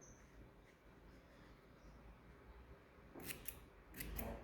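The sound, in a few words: scissors cutting yarn for an amigurumi Santa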